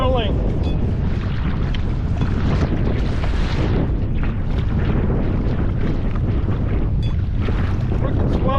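Motorized kayak pushing through choppy swells in strong wind, with constant loud wind buffeting and water slapping throughout, and a voice occasionally audible beneath the roar.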